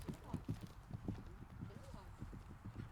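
A horse cantering, hooves thudding in a steady rolling three-beat rhythm, close by, with muffled voices in the background.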